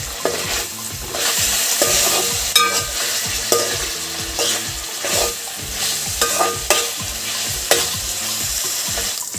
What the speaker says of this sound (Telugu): అల్లం పచ్చి వాసన పోయే వరకు వేయించుకుందాం